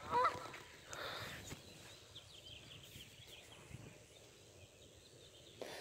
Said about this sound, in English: These beautiful birds.